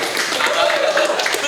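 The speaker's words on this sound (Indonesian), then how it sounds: "Kita tepuk tangan meriah buat AA Raffi Sultan." A television studio audience gives a short burst of applause to welcome a guest on a talk show, dense clapping mixed with chatter and voices.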